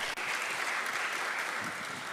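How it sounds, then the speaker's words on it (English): Brief, dense applause from an audience at an international economics conference, a continuous wash of clapping at steady volume throughout. "Give applause to us"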